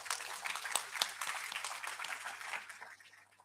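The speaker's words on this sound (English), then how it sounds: "Let's give them one round of applause once again." Audience applause at a conference ceremony honouring prize winners, a dense crowd of clapping hands sustained steadily for several seconds before tapering slightly, with no talk over it.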